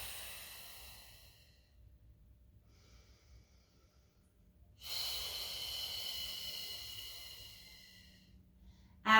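A long, breathy exhale during a Pilates mat exercise comes in two drawn-out airy pushes separated by a quiet pause, close to the microphone and otherwise alone.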